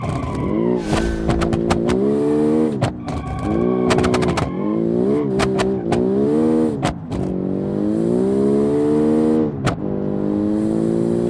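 Race car engine in a racing video game, loud and continuous, with rising and falling revs through repeated gear shifts and brief cuts as the car slides out of control during a heat, no voices over it.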